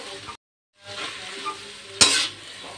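Korean-style noodles fry in a pan with already-fried eggs and onions, giving a close crackling sizzle and stirring scrapes. The sizzle cuts out briefly, then resumes, and a sharp utensil clack sounds near the end.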